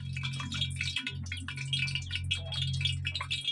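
Cooking oil in a frying pan that is not yet hot enough gives a soft, steady crackling and ticking of small bubbles, moderately close, with a low hum underneath and no voices.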